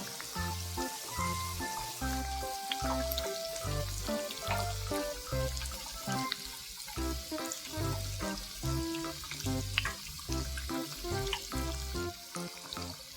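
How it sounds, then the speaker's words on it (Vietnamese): Cheese-filled potato sticks sizzle and crackle steadily in very hot oil, a continuous bubbling hiss over soft background music. "để dầu cho nó nóng thiệt là nóng, cho nó sôi già nha. Rồi hãy bỏ khoai tây vào."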